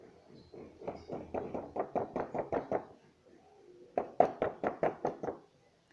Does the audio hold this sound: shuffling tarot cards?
no